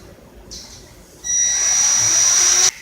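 A power tool drives a set screw on a ceiling fan: a short whir, then a sustained high-pitched motor whine lasting over a second before cutting off abruptly, close and fairly loud.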